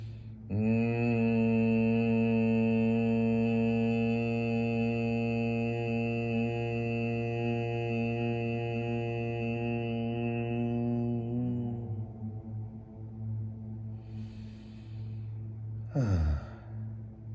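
A yoga class hums together in Bhramari breath, a sustained steady buzzing drone of several voices lasting about eleven seconds before fading into quiet breathing and a soft exhale.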